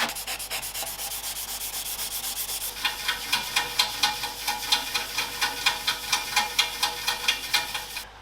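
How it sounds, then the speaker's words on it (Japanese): Blue Magic polish being rubbed by hand over a Caterham Super Seven body panel, a continuous scrubbing hiss that settles into steady, evenly spaced back-and-forth strokes, close and alone with no talk. "それじゃあブルーマジック使ってボディ磨いていきます。"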